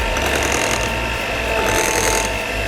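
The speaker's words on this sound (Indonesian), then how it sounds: "sambil kita mixer dengan kecepatan 1 aja" Electric hand mixer running at its lowest speed while beating red velvet cake batter, a loud, steady motor whir with a gritty rattle of the beaters in the bowl, close and uninterrupted.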